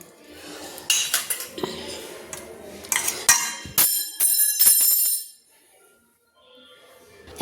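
A spoon adds salt to washed chicken for a do pyaza marinade, with a run of sharp metal clinks and taps against a dish, then a near-silent pause and one last clink.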